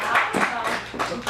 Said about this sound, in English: give a round of applause for these two.